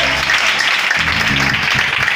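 A congregation at a worship gathering gives loud, sustained applause and cheering that fills the space, with a voice briefly rising over the clapping partway through.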